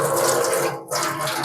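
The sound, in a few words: water poured off after washing plums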